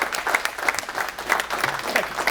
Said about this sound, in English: look at that long clap